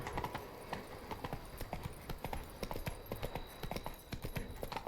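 Horse hooves clip-clop in The Witcher 3: Blood and Wine, a steady, fairly fast rhythm of close hoofbeats running throughout over a faint ambient background.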